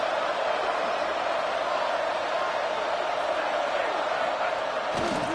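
Stadium crowd roaring in a football video game, a dense steady wall of cheering that stays loud and even throughout, with a voice talking over it.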